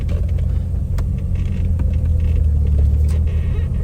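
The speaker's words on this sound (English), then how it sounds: "So we're going to go ahead and take off and take a first spin here real quick." A 1982 DeLorean DMC-12 pulls away, its engine a steady loud low rumble with road and cabin noise heard from inside the car.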